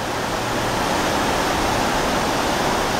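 River water flowing steadily near Mount Shasta, a dense continuous rush that stays loud and even from start to finish, with no voices.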